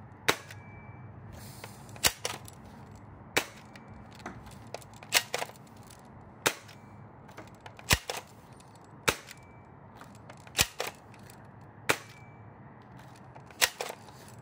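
A JF 34s AK airsoft rifle by X-Force Tactical firing single shots outdoors, about eleven sharp, loud cracks at irregular intervals of one to two seconds, alone with no talking.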